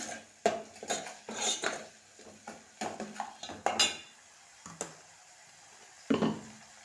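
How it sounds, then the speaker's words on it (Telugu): Ginger garlic paste stirred in a cooking pan, with a series of close metallic scrapes and clinks from a spoon against the pan, irregular and moderately loud, and no one talking. "అల్లం వెల్లుల్లి పేస్ట్ వేసాను కదా కొంచెం కలుపుతున్నాను"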